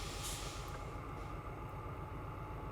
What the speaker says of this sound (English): I don't know why it was giving me the pipe fill sound when I've got the brakes off.